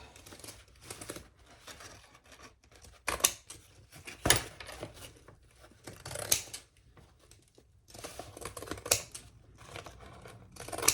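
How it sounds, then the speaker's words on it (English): Pinking shears snipping the corners of a fabric crossbody bag, a series of crisp, irregular cuts with soft rustling of cloth between them, close and fairly quiet. "let's just trim these corners with some pinky shears"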